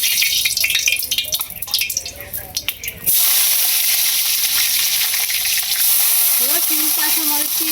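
Green chilies and onions hit a hot wok and burst into a loud, steady sizzle that stays bright and continuous, after some clattering preparation sounds at the start.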